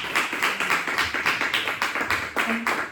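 Church congregation clapping together in rhythm after a scripture reading, a steady run of claps close by, no talk over it.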